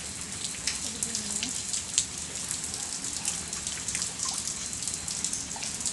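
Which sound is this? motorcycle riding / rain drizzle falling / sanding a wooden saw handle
rain drizzle falling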